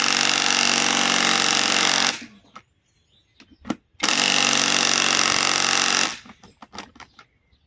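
A Harbor Freight Hercules Gen 2 compact impact wrench on a 24-volt battery fires two loud, sustained hammering bursts of about two seconds each, separated by a short pause with faint clatter.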